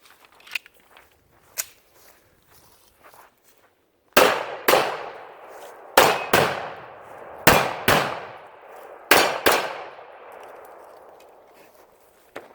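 A Rock Island Armory 1911 pistol fires at steel targets: after a few soft handling clicks, sharp shots each ring off steel with a clang, coming in pairs and singles with short gaps, loud and close.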